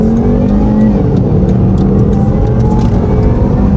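A Volvo V40 Cross Country accelerating on a country road, its engine heard from inside as a loud, steady drone with a rising pitch under constant road and tyre roar.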